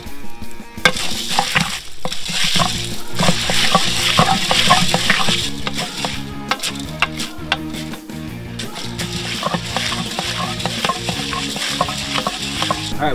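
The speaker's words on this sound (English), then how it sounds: "we got our popcorn kernels and our butter coconut oil heating up" Popcorn kernels heating in butter-flavored coconut oil in a pot: a continuous sizzle with scraping stirring sounds and faint clinks, steady and close, with no voices.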